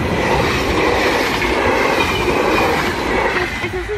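Train arriving from Maastricht at Geleen, a loud steady rumble of wheels on rails with faint squeal, passing close by without any talk.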